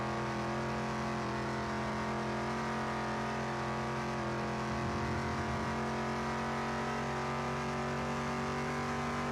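A car engine in Car Mechanic Simulator 2021 holds a loud, steady drone with strong tonal harmonics that climb slightly as it revs, running continuously without a break.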